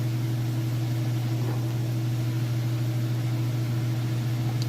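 A Whirlpool washer drum spins at full speed with a steady, loud mechanical hum that holds even and unbroken throughout, with no voices.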